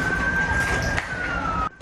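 Emergency sirens from fire engines and ambulances arriving at a burning townhouse wail loudly and steadily over traffic noise, one sustained tone holding before the sound cuts off abruptly near the end.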